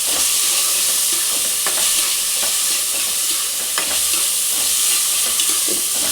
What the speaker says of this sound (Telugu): కొంచెం జీడిపప్పు ఇవన్నీ వేసి మంచిగా ఫ్రై చేసుకోవాలి